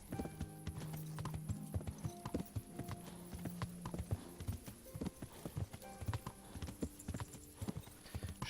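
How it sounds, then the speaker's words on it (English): Hooves of a horse in the game Kingdom Come: Deliverance clip-clop in a quick, steady rhythm, close and clear, with faint background tones and no talking. "Come on, horse."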